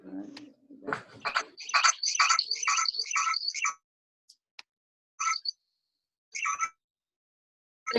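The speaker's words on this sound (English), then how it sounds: "May mga frog." Frogs call outdoors, heard over a call line: a rapid run of bright, repeated croaks for a few seconds, then isolated short bursts separated by silence.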